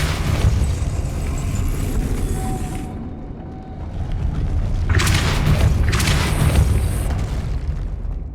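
A Depulso spell in Hogwarts Legacy goes off as a deep rumbling boom, followed by a second swelling blast with hissing noise, loud and sustained over several seconds.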